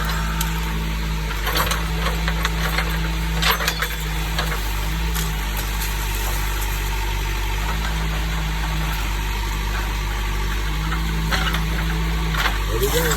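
A John Deere 310 backhoe's diesel engine runs steadily nearby while clearing land for a homestead, a loud continuous rumble with brief knocks and clanks, and a voice is heard over it.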